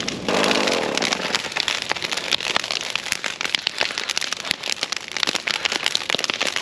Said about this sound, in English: Just gotta keep the leaf blower running.